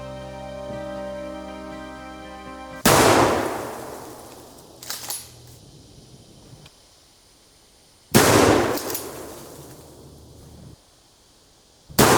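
Two loud lever-action rifle shots during target practice in a Western film setting, each a sharp close crack with a long ringing echo, separated by a pause with a smaller clack of the lever between.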